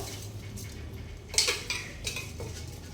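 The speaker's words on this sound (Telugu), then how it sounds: "ఇప్పుడు మనం 1 గంట ముందు నానబెట్టుకున్న బియ్యం అయితే వేసేద్దాం" Soaked rice goes into a pressure cooker for mutton biryani, with metal clanks and scraping of a utensil against the pot over a low steady hum, a few sharper knocks in the middle.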